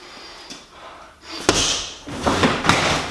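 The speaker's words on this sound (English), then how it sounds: "with a nice and strong punch, you should be able to deliver your body momentum through the target and be able to knock down this bob" A strong punch knocks over a heavy freestanding punching bag, heard as a sharp impact followed by a few heavy thuds and a clattering rock as it falls and settles, loud and close with no talk.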